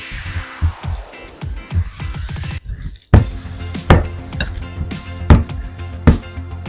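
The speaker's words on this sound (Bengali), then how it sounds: "ভর্তা পেঁয়াজটা একটু কুচি করতে হয় ভালো করে।" Raw onion being chopped finely with a knife on a board for peanut bharta. Quick, loud, close blade taps come in irregular bursts with short pauses, and no one speaks.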